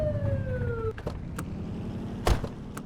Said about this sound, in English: flip the siren to make them pull over